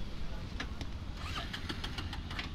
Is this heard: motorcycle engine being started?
yes